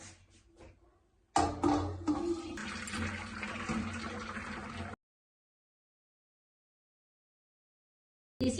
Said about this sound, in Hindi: उसको निकालने के लिए एक बर्तन लेते हैं, ऊपर से एक चलनी रख देते हैं